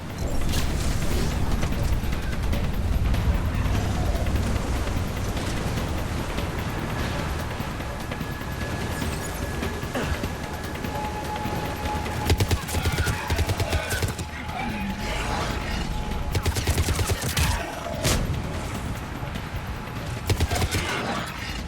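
Gunfire and explosions from a Mass Effect 3 battle fill a busy, loud stretch of rattling shots and impacts, with voices talking over the combat.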